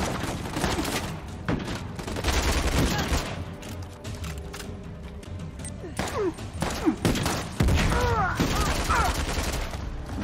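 Shotgun fire and combat from the video game Uncharted: The Lost Legacy, loud booming blasts and crashing impacts under a dense game soundscape, with several heavy bursts in the latter half and talk mixed in.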